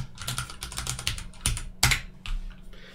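A computer keyboard is typed on in a quick burst of close, crisp clicks, a short pause, then a few harder key strikes as a name is entered, with no talking.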